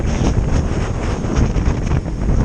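Loud, close wind rumbling and buffeting the microphone in uneven gusts on a hill descent near Uldale and Dent, with no other sounds standing out.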